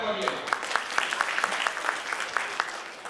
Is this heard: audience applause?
yes